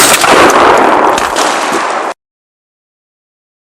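A single loud blast from a Beretta shotgun firing a test cartridge at a target 35 meters away, outdoors, with a booming report and short decaying tail that cuts off into silence.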